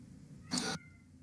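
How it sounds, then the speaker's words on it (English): A house cat lets out one loud, drawn-out meow lasting under a second, close and sharp against a quiet background hum. "Your cat is screaming."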